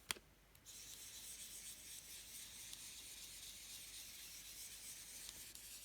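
Khaki green colour rubbed onto a junk journal page makes a soft, continuous close-up scraping hiss after a small tap at the start, steady and quiet with no talking.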